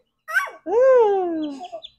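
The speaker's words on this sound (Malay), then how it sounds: "Comelnya ayam ni" A baby chick on a small home poultry farm gives a short chirp, then a longer drawn-out peep that slides downward, close and clear with nothing else around.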